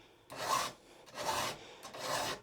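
A chainsaw chain is sharpened by hand with a file: three slow, even rasping strokes, each a close, gritty scrape with a short pause between.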